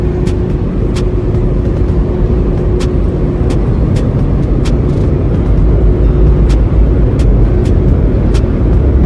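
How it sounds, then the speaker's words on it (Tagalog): Ferry engine powering up before departure, a loud, constant low rumble and drone close by, with a steady hum and sharp ticks recurring every second or so. "I think ready nang umandar tong barko. Kasi I feel na nagpa-power up na siya."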